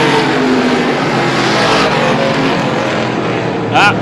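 Stock cars race around Star Speedway in a July 4th feature, their engines making a continuous, close, loud roar with a voice talking over it.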